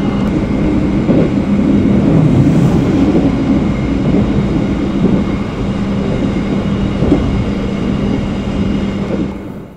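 An economy train runs through Magetan station without stopping, a loud, steady rumble of wheels and carriages holding for nearly ten seconds, with no voices.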